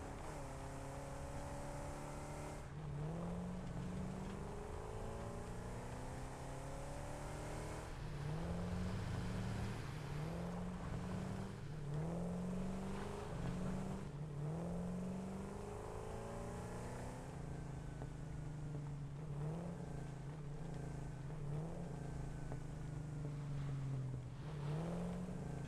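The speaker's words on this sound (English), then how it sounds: "Our tractor's moving out up there." A tractor vehicle drives in the video game Satisfactory, its engine a steady hum that rises and falls in pitch as it moves. The sound runs continuously beneath clattering in-game machinery, and no one speaks.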